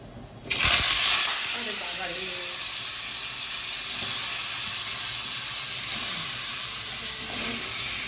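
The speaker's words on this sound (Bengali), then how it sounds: "তেলের মধ্যে নুন দিয়ে দিচ্ছি আর মাছের মাথাগুলো দিয়ে দিচ্ছি" Fish heads drop into salted hot oil, setting off a sudden loud hiss that then settles into an even, steady sizzle, with a faint voice in the background now and then.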